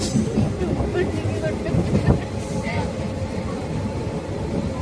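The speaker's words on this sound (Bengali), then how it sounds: "যে আমরা এখন ট্রেনে উঠে গেছি, ট্রেন মেহে হাম লোক।" Interior of a moving passenger train, with a steady rumbling and rattling drone that fills the whole stretch, close and continuous, with a brief louder knock partway through and people talking over it.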